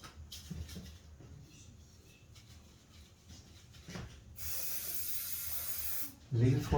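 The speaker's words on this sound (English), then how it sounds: "Okay, just spray it now." An aerosol can sprays over a drawing of an Arabian horse in one steady, loud hiss lasting about two seconds, set off against quieter room noise and soft handling sounds before and after.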